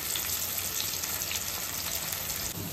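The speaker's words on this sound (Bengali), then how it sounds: "এবার আলুটা ভেজে নিচ্ছি।" Potatoes fry in a pan for a Bengali fish curry, giving a continuous close hiss and sizzle of hot oil at moderate level, with no talk.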